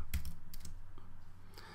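Quick typing on a computer keyboard, a short run of close, crisp key clicks over a low background hum, no voice.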